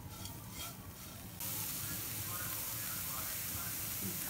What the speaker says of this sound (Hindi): कम से कम 5 मिनट तक हम इसे भूनते हैं।